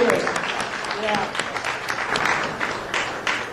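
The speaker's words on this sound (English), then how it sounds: "so let's give them a round of applause." A crowd at an outdoor community gathering claps for young people, with scattered applause mixed with voices and chatter, fairly close and continuous.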